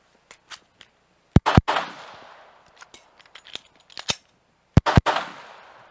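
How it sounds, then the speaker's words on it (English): Pistol fire during a draw-and-reload drill: two sharp, loud shots, a pause filled with light handling clicks of the reload, then two more shots, each with a brief echoing tail outdoors. "So Nate just shot a couple rounds, so go ahead and holster."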